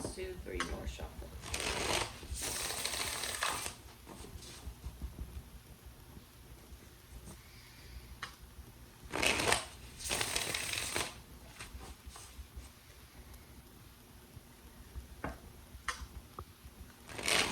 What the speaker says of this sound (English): Alright, let's do 3 more shuffles.